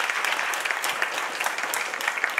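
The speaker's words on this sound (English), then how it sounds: "so another big applause to them" Audience applause for the volunteers at a conference keynote, a dense steady clapping from a large crowd with no talk over it.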